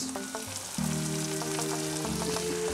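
Spices for Kenyan pilau sizzle steadily in a hot pan with cilantro, a close, continuous frying crackle with a few soft clinks, no voices.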